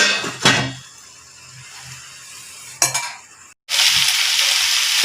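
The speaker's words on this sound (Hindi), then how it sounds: "लो गैस करके हम भिंडी को 10-15 मिनट तक पकाएंगे ढककर।" Okra (bhindi) sizzles in a pan while a spoon scrapes and stirs it in two short bursts, followed by a loud, steady frying hiss close by.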